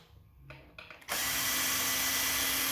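A power tool removes 14 mm differential bolts on a Yamaha V Star 1100 during rear wheel removal, starting after a few faint knocks and then running as a loud, steady, close whine to the end.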